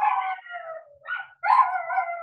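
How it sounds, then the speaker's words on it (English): Dogs howl in long, wavering tones, in two drawn-out phrases broken by a short pause, fairly close and loud with no talking over them. "I think there's some dogs that need sugar because they sound kind of sick"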